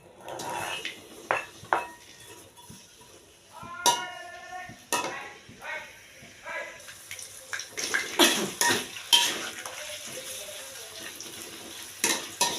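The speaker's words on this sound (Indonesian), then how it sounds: "Sekarang kita tumis bawang bombaynya ya" Onions being sautéed in a pan for a stir-fried bean and shrimp dish, with close clinks of a utensil against the pan, a scraping stir and a soft sizzle, in a quiet kitchen.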